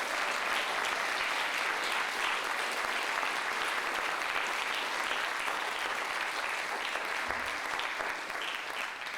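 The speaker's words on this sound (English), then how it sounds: "Would you please give her a round of applause?" Audience applauding at a symposium talk after a folk musician's introduction, a dense, even wash of clapping from a crowd that holds steady the whole time with no voices.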